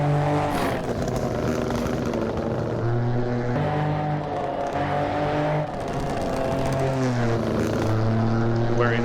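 Rally car driven flat out on a gravel forest stage at the Kielder Forest Rally, British championship event, engine note rising and falling steadily through gear changes, loud and close throughout with no pauses.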